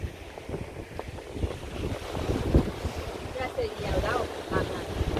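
Ocean waves wash ashore at Nanbin Park beach in Hualien, a continuous surf roar with irregular swells and heavy wind buffeting the microphone, with faint voices in the background.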